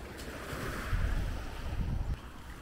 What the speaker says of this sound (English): it's appropriate to do it at the beach because we've got waves here